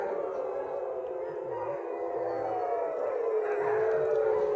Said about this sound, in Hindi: अभी सारे कुत्ते चिल्ला रहे हैं